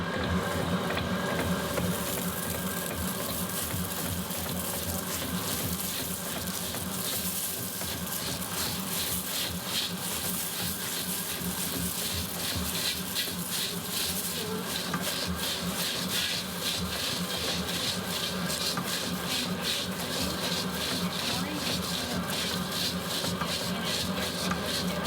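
Stand mixer steadily churning cornflakes into Afghan biscuit dough, a continuous close mechanical whir with dense crunching and rattling from the flakes, no voices.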